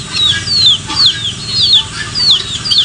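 Chickens on a farm give a run of short, high, sliding calls repeated every half second or so, close by, over a steady low rumble of background noise.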